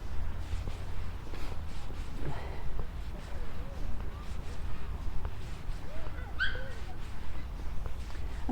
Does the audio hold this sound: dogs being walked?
yes